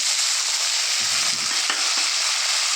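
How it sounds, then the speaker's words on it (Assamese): Tomato, ginger, garlic and onion sizzle and fry in a hot wok, a steady close hiss with faint stirring scrapes and no talking. "কেৰাহীখনত দি দিম আদা নহৰু পিঁয়াজৰ লগত এনেদৰে দি ইয়াতে ধুনীয়াকৈ ফ্ৰাই কৰি ল'ম"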